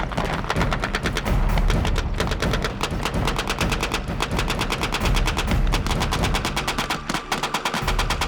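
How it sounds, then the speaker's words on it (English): A machine gun fires blanks during a military basic training exercise, with loud, close, nearly continuous rapid bursts and heavy thumping shots that run through the whole stretch. "Even though the weapons are only firing blanks, it's clear the machine gun controls the battle."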